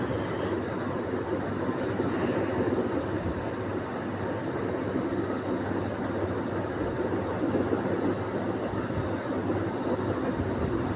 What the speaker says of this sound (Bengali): আর একটি মেট্রো রেল চলে যাচ্ছে।